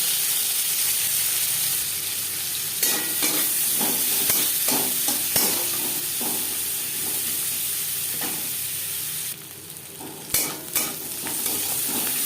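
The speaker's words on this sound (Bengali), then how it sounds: "দু তিন মিনিট পেঁয়াজ ভেজে নেওয়ার পর" Chopped onion fries in oil in a wok, a constant hissing sizzle broken by several sharper scraping stirs, with one louder burst of spitting near the end; nobody speaks.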